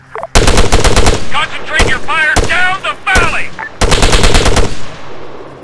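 Rapid machine gun bursts from the Arma 3 combat game crack out loud and close in several long strings, with a voice shouting between the volleys.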